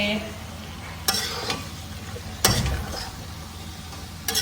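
Food being stirred and fried in a pan, with a steady low sizzle and a few sharp utensil scrapes and knocks breaking through at intervals.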